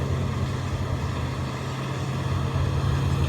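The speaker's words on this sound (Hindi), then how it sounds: "इधर जो गाड़ी चल रही है" A vehicle engine runs on a farm during the last day of wheat harvest, giving a steady, fairly close low rumble with wind-like noise and no speech.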